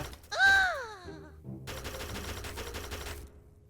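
Rapid gunfire from a firearm in the sandbox game People Playground, a dense burst of shots lasting a couple of seconds after a short voiced exclamation.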